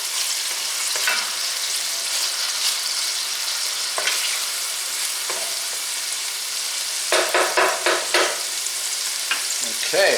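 Garlic paste is stirred into onion frying in a pan, with a steady loud sizzle throughout and spatula scrapes and stirring knocks, clustered toward the end.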